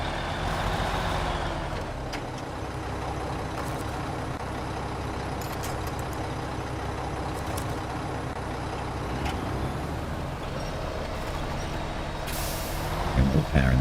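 Heavy truck in SnowRunner idling and labouring with a steady low engine drone, punctuated by short hissing air brake releases near the end, close and continuous with no talk.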